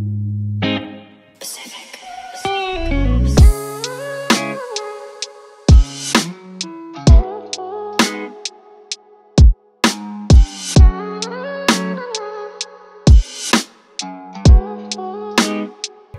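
An R&B song demo plays back in FL Studio, with sustained keyboard chords, a descending swoop near the start, and sharp low drum hits and clicks scattered through a sparse, steady groove, loud with no voices.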